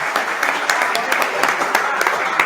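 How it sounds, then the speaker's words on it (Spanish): Audience applause at a talk during an academic congress in Río Cuarto, a steady wash of many hands clapping with scattered sharper claps throughout, close and continuous. "Un aplauso para Diego."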